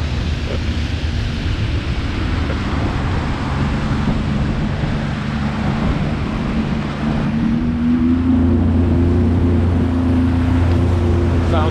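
A Sea-Doo personal watercraft engine runs steadily on shallow water, a loud, close motor drone with rising pitch toward the end as it throttles up, mixed with water and wind noise.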